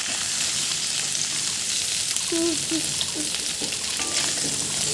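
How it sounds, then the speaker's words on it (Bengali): Paneer slices frying in hot oil, a steady close sizzle with some soft crackles and light stirring noises throughout, no voices. "এবার ভেঙে না স্লাইসগুলো তেলেতে ছেড়ে দিলাম"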